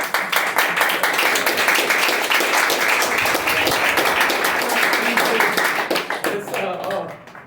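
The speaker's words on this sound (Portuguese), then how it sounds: "Vamos aplaudir o nosso Eva." A church congregation applauding, dense continuous clapping at close range, fading near the end, with a voice audible over it.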